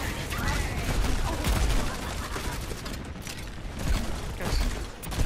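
Rapid gunfire in the video game Bio Crash Craze, a dense continuous rattle of shots over several seconds, loud and close, with game sounds mixed in.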